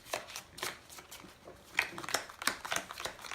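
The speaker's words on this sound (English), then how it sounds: "I'm going to have to shuffle." A deck of cards is shuffled during a tabletop card game, a series of quick, rhythmic riffling bursts, close and fairly quiet.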